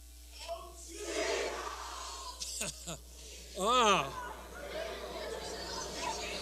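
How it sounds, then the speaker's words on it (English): A crowd of Cabrillo High School students from Long Beach cheers and shouts at a national engineering meeting, a swelling roar of voices with scattered yells and whoops. "Stand up and cheer."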